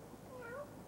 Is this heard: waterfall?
no